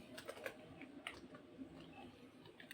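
Soft, irregular clicks of a computer keyboard as Java code is typed, the keystrokes quiet and close in an otherwise hushed room.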